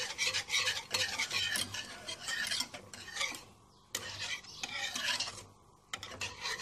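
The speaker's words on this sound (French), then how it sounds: "Et je mélange le tout jusqu'à ce que ça s'épaississe" A whisk or spoon stirring a strawberry-vanilla pastry cream mixture in a pot as it thickens, giving continuous scraping, rasping strokes in quick repeated bursts with brief pauses, close and alone without talk.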